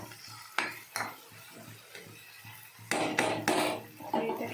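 A metal lid is set onto a cooking pot, with several clanks and scraping knocks of metal on metal, fairly faint, in a home kitchen.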